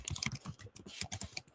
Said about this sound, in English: Pardon the typing in the background